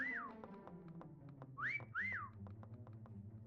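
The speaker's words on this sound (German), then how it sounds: "Ich pfeif. Hörst du?" Short human whistles, a rising-falling tune with two closer, louder phrases, heard over low game sounds and faint clicks during a Meccha Chameleon hide-and-seek game.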